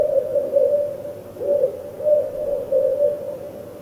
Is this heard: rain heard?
no